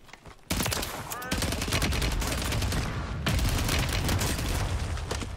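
Rapid automatic gunfire in Warzone 3 erupts in dense, continuous bursts after a brief quiet start, loud and close, with a short break before another sustained volley, and a voice talking underneath.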